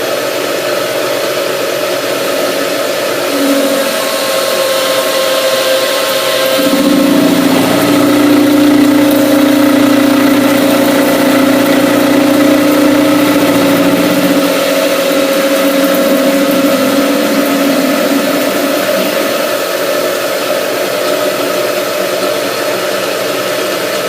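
A metal lathe runs with a steady, loud mechanical whir and hum, its tone shifting and deepening partway through as the machine loads up, continuing without voices for the whole stretch.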